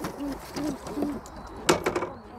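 Pigeons coo in a breeder's loft, with soft low rhythmic calls repeating about every half second, followed by a few brief rustles and flutters, fairly close and quiet.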